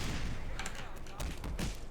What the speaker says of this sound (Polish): jak na granat, który wybuchł obok mnie, to praktycznie zero damage'a